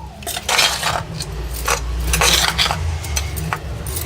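Shrimp shell chili powder ground in a stone mortar, with repeated rough grinding and scraping strokes in a steady rhythm, close and fairly loud.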